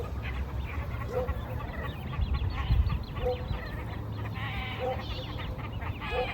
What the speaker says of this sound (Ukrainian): маленькі каченятка, по-моєму, десь там я чую